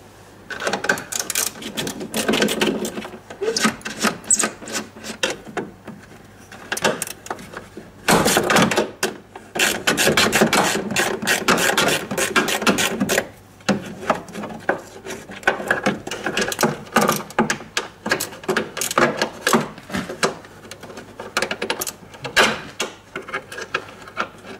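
Bolts being loosened and removed from the headlight assembly of a Dixon Volvo Gen 2 truck hauler, heard as a long run of close, busy clicks, rattles and scraping hand-tool work with brief pauses and no talk.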